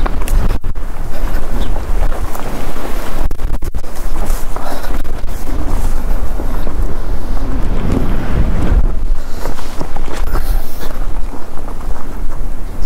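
Strong wind gusting loudly and continuously around a metal cross at an abandoned site near Volgograd, a constant rushing roar buffeting the microphone, with faint clinks of chains swinging in it.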